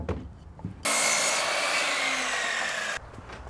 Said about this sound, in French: Alors c'est parti, tu peux scier.